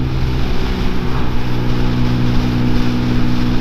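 A Peugeot PM-01 125 motorcycle is ridden at a steady pace, its engine giving a loud, continuous drone with a constant low hum and wind rush, with no voices.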